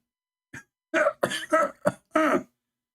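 Five separate harsh coughs, the first short and isolated, the rest in a ragged series, close and fairly loud with brief silences between.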